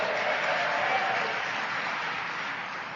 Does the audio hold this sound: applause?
yes